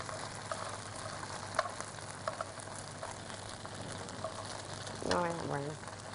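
Small pieces of food fry in a pan, a steady soft sizzle that continues throughout, with a brief clatter of the pan or utensil near the end.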